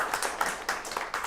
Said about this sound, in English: and then, finally, another round of applause for Dr. Frick.